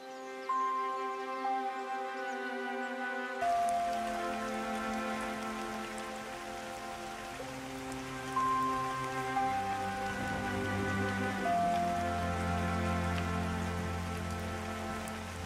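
Steady rain falls through a dense forest of many tree and plant species in New Hanover in Red Dead Redemption 2, a continuous even hiss under sustained tonal music, with no talking.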